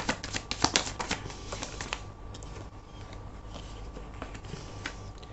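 Tarot cards drawn from a deck give a flurry of crisp flicks and snaps, densest at first and then thinning to occasional soft taps, close up with no talking.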